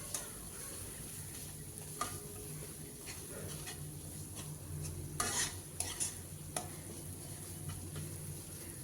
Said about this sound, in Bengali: সব মশলাগুলো আমি আরও 2 মিনিটের মতো কষিয়ে নিচ্ছি।